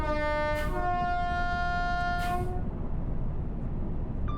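A Class 802 train in Train Sim World 6 on the Riviera Line gives two long, loud horn blasts over the steady rumble of the moving train, which carries on alone afterward.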